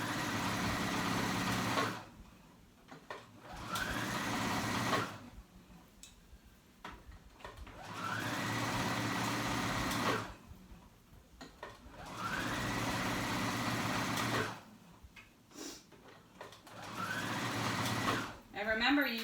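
A sewing machine stitching fabric for a summer cover-up runs in several long whirring bursts, close and steady, separated by pauses in which a person talks quietly.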